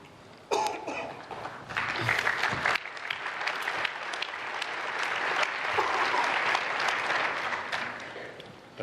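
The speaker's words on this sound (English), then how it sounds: "They're clapping." An audience in a church hall applauds after a speaker finishes an argument in a debate on atheism and theism, loud sustained clapping that swells and holds, with a few coughs scattered through it.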